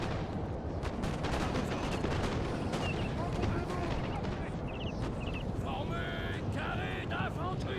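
Booming artillery and scattered musket fire in the online battle game Napoleon: Total War roll on steadily, with a voice talking over the constant din.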